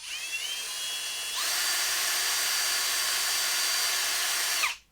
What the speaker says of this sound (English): found a wire brush for the drill